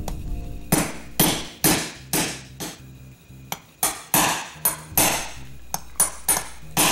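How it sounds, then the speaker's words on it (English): A steel hammer strikes a steel punch to drive a tough pin through a shotgun bolt, ringing metallic blows landing about a dozen times in a steady, close rhythm. "It was a pretty tough pin, so I had to get a steel hammer and a steel punch"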